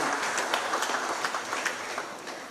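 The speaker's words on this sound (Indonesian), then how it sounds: "Berikan tepuk tangan kepada Bapak Pramono Anung" Audience applause at an official event with the Jakarta governor present, a steady, moderately faint wash of clapping lasting a few seconds with no talk over it.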